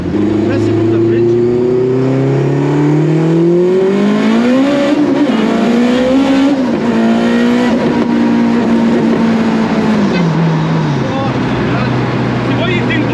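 An AWD Honda Civic EG on Mexican streets pulls hard, its engine droning loudly and climbing in pitch through the gears before easing off, heard up close from inside with voices mixed in.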